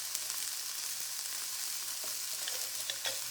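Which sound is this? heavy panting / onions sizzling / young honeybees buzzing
onions sizzling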